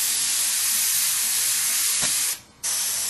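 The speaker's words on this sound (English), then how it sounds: "whenever you're spraying white, you want to spray a layer, let it dry" An airbrush sprays white paint onto a T-shirt in a loud, continuous close hiss that breaks off briefly near the end before resuming.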